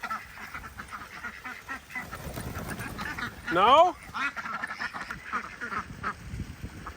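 Ducks quack by a newly built pond, one loud honking quack burst standing out midway over faint background calls, while a person speaks briefly nearby.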